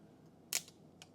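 A sharp, crisp snap of dehydrated sweet potato followed by a smaller crack a half second later, quiet and close.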